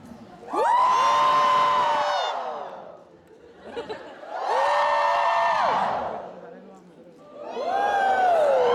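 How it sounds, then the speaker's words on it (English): A convention panel audience screams on cue in three long, loud bursts, each rising sharply and then dropping off, with brief crowd murmur in the pauses between them. "When I lift my hands, you're going to scream for me"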